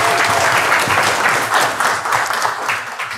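Dense, continuous applause from an audience at a health lecture, filling the whole stretch at an even, loud level.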